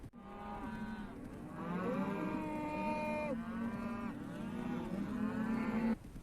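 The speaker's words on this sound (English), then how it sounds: "Not the fucking cows again" A herd of cattle moo loudly and repeatedly, several long overlapping bellows from close by with brief pauses between calls, heard alone with no talk.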